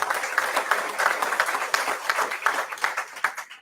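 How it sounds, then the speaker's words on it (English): Audience applause at a ribbon cutting and building dedication ceremony for a health center, a dense, steady patter of many hands clapping at moderate distance, tapering slightly toward the end. "Much deserved applause"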